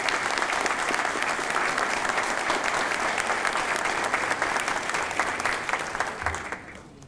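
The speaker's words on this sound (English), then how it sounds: "Could we give them a round of applause?" Sustained audience applause at an international conference on governance, ethics and development, dense and steady across the room, then tapering off near the end.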